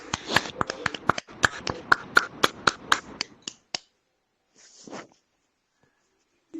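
Sparse clapping after a group meditation session, a handful of distinct, crisp claps in a loose rhythm lasting about three seconds, then silence with a faint brief murmur of a voice.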